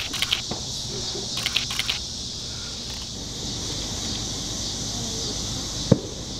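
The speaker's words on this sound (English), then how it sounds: "Like all the cicadas and everything." Cicadas droning during the 2017 total solar eclipse near Nashville: a steady high insect buzz fills the background, with a few soft rustles and clicks and one sharp knock, and no clear talk.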